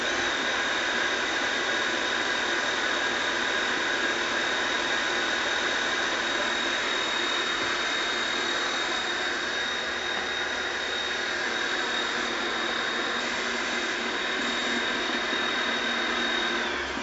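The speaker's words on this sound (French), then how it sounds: "je vais pouvoir remettre le robot à pleine vitesse pendant quelques minutes" Stand mixer running at full speed whipping Italian meringue, a steady loud whirring motor whine with a high squealing tone, continuous and unbroken throughout, no voices.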